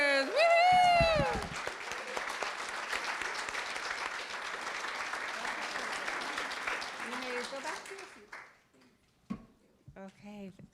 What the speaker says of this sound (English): let's do one more round of applause for our award winners